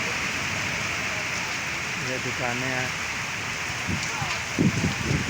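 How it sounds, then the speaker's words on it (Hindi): Steady rainfall hisses on a street with shops, a dense, even wash of sound that runs throughout as someone speaks briefly over it and a few closer thumps land near the end. "ये बारिश आ रही है आपके सामने"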